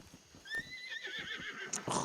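Horse in the game Red Dead Redemption 2 gives a loud, shrill whinny that wavers and falls over about a second and a half, with faint hoof thumps and shuffling around it.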